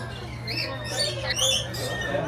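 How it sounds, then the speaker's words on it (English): A lorikeet at an aquarium aviary gives sharp, close chirps and squawks in quick irregular bursts over a steady low hum. "Hanging out here with my friend the lorikeet."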